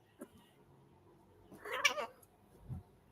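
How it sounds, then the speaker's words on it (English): A house cat lets out a drawn-out, wailing meow close to the microphone, rising and falling over about half a second, framed by soft thumps in an otherwise quiet room. "sorry, my cat."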